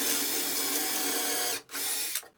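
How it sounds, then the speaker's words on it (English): A power drill bores holes into the unbanded edge of a board guided by a doweling jig, a loud steady whine that cuts out briefly twice near the end. "I drill a couple of holes into the edge, in the edge with no edge banding"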